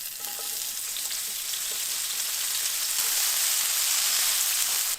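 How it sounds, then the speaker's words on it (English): Onions frying in a pan on the stove, cooking down toward translucent: a steady, dense sizzle that holds close and even throughout, gradually growing slightly louder, with no voices over it. "I'm going to go ahead and cook our onions until they're translucent"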